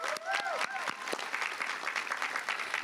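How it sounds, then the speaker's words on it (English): A round of applause from an audience at a college commencement ceremony, full and sustained, with a few whoops rising over the clapping near the start. "One more round of applause."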